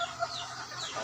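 Chickens cluck in a brief burst, a quick squawk near the start followed by softer fowl chatter at moderate distance.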